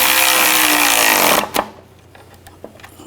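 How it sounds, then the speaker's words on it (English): A loud power tool whirs steadily for about a second and a half on the bolts of a catalytic converter on a 2013-2019 Ford Escape, then cuts off, followed by a few faint metallic clinks. "And tighten the bolts down."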